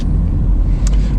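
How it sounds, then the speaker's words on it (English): A Dacia Logan's engine rumbles steadily at full throttle with heavy low-end drone, loud and close, outside the Palace of the Parliament in Romania, no talking. "There we go, full acceleration in the Dacia outside the People's Palace here in Romania."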